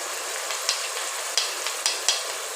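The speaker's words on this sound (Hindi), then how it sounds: "अब इसको 2 मिनट मैंने भूनना है, और इसके साथ ही जाएंगे कुछ मसाले।" Rice with tomatoes and spices frying in a pan for zeera rice with masoor, a soft continuous sizzle broken by a few sharp spatula clicks, fairly quiet and with no talking.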